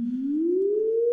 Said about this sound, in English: now that allows me to play this sine wave